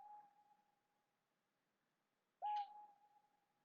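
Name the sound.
weird owl-like bird call in video game Code: Realize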